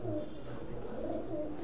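Teddy pigeons of Oman bloodline coo softly in a loft, low rolling calls repeating steadily over a brief stretch with faint background murmur.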